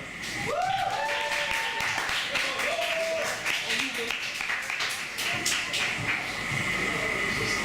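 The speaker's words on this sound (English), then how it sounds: "I'd like you to give a big warm round of applause to Pamela." A crowd claps steadily in continuous applause, with voices cheering and talking over it.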